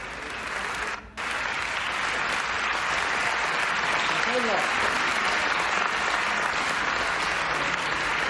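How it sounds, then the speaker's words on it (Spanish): Audience at the Venice Film Festival giving Alfonso Cuarón a standing ovation in a cinema hall, loud sustained applause from a large crowd filling the room without a break, with a few voices rising above it. "cómo se levantó la gente en la sala de cine para aplaudirle a Alfonso Cuarón"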